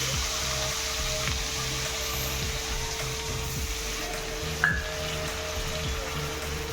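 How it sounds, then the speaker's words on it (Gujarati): Finely chopped onions with asafoetida sauté in oil in a pan over a low gas flame for pav bhaji, a steady soft sizzle that runs unbroken throughout with a faint low hum beneath it. "ગેસની ફ્લેમ ધીમી રાખી આપણે ધીમે તાપે સાંતળી લઈએ"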